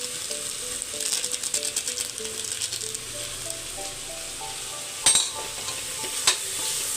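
A spoon stirs MTR garam masala and pulao masala into pulao frying in a pan. Quick rhythmic scraping strokes play over a soft sizzle, followed by a couple of louder clanks against the pan.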